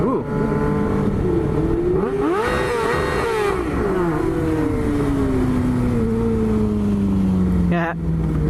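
A motorcycle engine at a large bike gathering revs up, its pitch climbing and then sliding slowly down in a long loud sweep, while other engines rumble around it and voices are heard.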